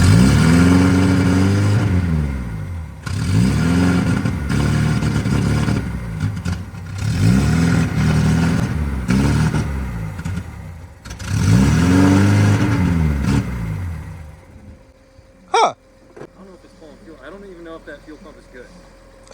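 Abandoned 1970 BMW 2002 engine running and revving in loud surging bursts, with people talking over it, then cutting out near the end before a brief sharp bang.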